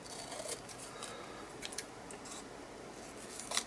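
Scissors snip through paper in a few quiet, crisp cuts while shaping small house forms, with a soft low background hiss between snips.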